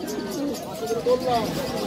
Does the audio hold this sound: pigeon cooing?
yes